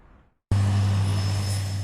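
A seaplane engine on South Lake Union starts up abruptly after a brief quiet moment, then drones loudly and steadily with a strong low hum and a broad roar until the end.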